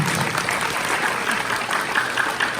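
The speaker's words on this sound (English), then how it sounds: "Can we have a big round of applause for this wonderful speech?" An audience at a Pongal festival event applauds after the mayor's speech, a full, sustained round of many clapping hands that holds an even level, with faint crowd murmur underneath.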